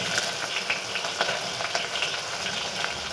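Cumin seeds, garlic and chili crackle and sizzle in hot oil, a steady dense frying hiss scattered with sharp pops and spits, close and loud with no voices.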